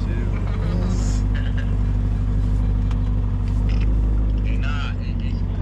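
Inside a moving Lamborghini Urus, a deep steady engine drone and road rumble run loud and constant while people talk over it.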